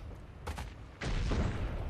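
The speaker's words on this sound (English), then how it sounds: "Give me a second to shoot somebody." Gunfire in the first-person shooter Heroes & Generals, a short burst of shots followed by a louder sustained volley over a rumbling background, fairly close and sharp.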